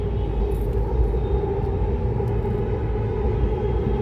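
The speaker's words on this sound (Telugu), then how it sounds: "ట్రైన్ వచ్చింది" A train passes on a railway at sunset, heard as a steady, loud low rumble with a droning hum that holds constant throughout, with no voices.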